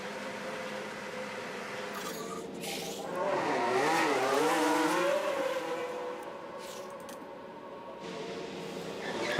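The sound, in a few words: race cars driving on track, F1 Manager 24 video game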